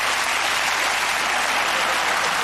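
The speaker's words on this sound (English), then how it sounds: "He was telling a joke just now, right? You know, and the audience clapped." A studio audience at a television comedy show claps in a loud, thick wash of applause that stays steady and close throughout, with no voices over it.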